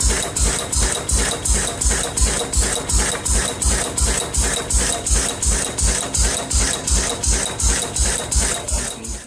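An old Lister stationary engine chugs steadily, a loud, even beat of regular firing pulses around two or three per second with mechanical clatter, running alone without talk.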